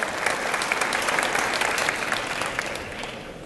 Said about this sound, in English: let's give this Richmond Police Department a round of applause